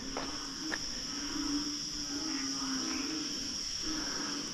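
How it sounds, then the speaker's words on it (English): Dense night chorus of frogs and insects in Taman Negara rainforest in Malaysia after rain, a steady high trilling drone with occasional short calls, continuous and fairly distant, no talking. "the frogs come out and they croak and croak and croak"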